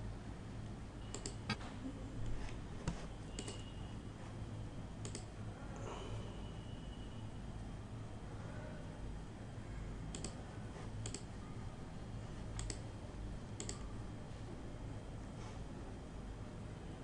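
Sparse, sharp computer mouse clicks at a desk while an Oracle ADF application is being run, a handful of isolated taps spread across a steady background hum.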